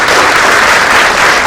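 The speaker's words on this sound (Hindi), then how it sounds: "अमृतसर की तालियां जो है गाजियाबाद तक पहुंचनी चाहिए।" Loud, dense applause from a theatre audience at Amritsar's Natshala during a play, a brief close burst of many hands clapping at a steady level.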